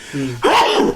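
A sneeze during a casual two-man podcast chat: a short tonal intake followed by one sharp, loud burst, close to the mic, with no words over it.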